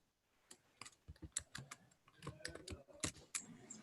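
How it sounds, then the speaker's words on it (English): Typing on a computer keyboard during an online commission meeting: irregular clusters of close, quiet key clicks and taps with short gaps, heard alone. "I'm trying to type a reply to Deb Hagan here."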